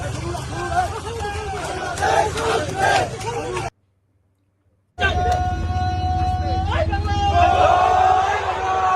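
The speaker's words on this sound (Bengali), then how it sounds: "গাবতলীর মিছিল দেখুন।" A street protest procession in Gabtoli, Dhaka, with a crowd chanting and shouting amid traffic noise. A short silent gap splits the clip, and the crowd resumes afterward.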